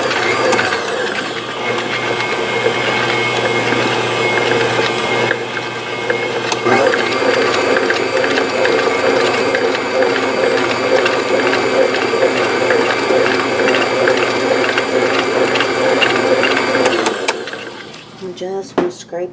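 An electric stand mixer creams a peanut butter ball mixture of peanut butter and confectioner's sugar, a loud, steady mechanical whir with rhythmic clicking and rattling that runs for most of the clip before stopping near the end.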